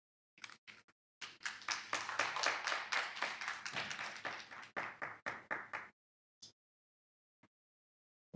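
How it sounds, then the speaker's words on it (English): Audience at a diaspora convention claps after a recap, starting with a few scattered claps and swelling into steady applause. The applause then fades into separate claps and stops, with one or two isolated claps afterward. "That hand clap is not enough for that excellent recap from Dr. William"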